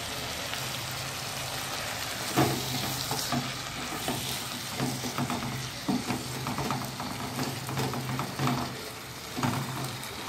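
Peas and potatoes stir-frying in a pan over a raised flame, a moderate steady sizzle punctuated by irregular stirring scrapes and clinks of a spoon, heard alone without talk.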